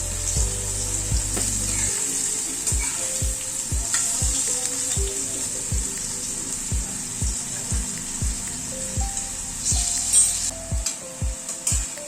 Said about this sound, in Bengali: তেলটা গরম হয়ে গেছে, এবার ভেন্ডিগুলো ছেড়ে দিচ্ছি।